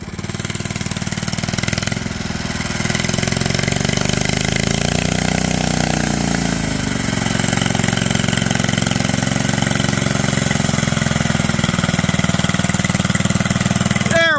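Bolens Husky 800 garden tractor, its engine revived after 14 years parked, pulling up a hill in first gear: a steady, loud mid-pitched engine drone that holds near and constant throughout, with its pitch easing lower partway through under load.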